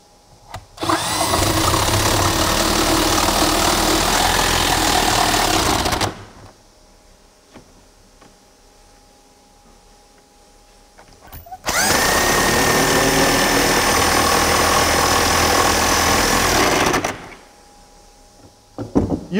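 Power tool driving lag screws into a wall starter in log-home wall construction, two long, loud buzzing runs of about five seconds each, separated by a quiet pause, with no talk.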